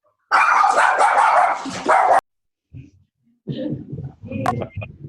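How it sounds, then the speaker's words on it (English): A puppy barks during a town board meeting call, a loud burst of sharp, rapid barks followed by a short pause and then several more yips and whimpers at close range. "you heard my puppy there"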